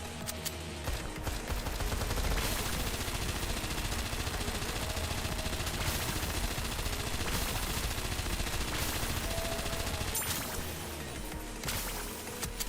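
Sustained rapid gunfire from a shooter in the video game Nikke, dense bursts and volleys rattling continuously without pause, loud and close under a busy game soundtrack.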